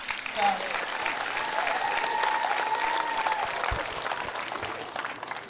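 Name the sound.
applause and cheers at a commencement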